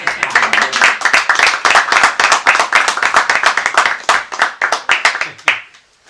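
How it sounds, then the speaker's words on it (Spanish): Guests at a Senate education and culture committee session clap in a crisp, fairly small group, sharp individual claps tumbling rapidly for about five seconds before thinning out and stopping. "Pueden aplaudir los invitados."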